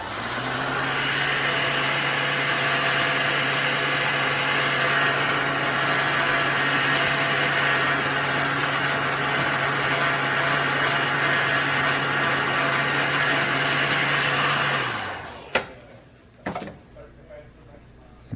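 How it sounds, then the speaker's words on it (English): A heat gun blows hot air to shrink heat-shrink tubing over the wires of a flexible LED light strip, a loud, steady fan whir with a low hum that runs continuously, then cuts off near the end, leaving a few small clicks. "And take a heat gun and shrink that down to size."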